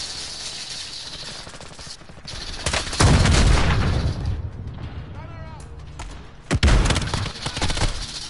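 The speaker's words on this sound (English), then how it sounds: "He's shooting at you." Gunfire in the video game Warzone, with two heavy, booming shots or blasts standing out over a steady backdrop of game noise and distant firing, and voices talking in between.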